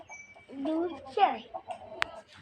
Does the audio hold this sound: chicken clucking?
yes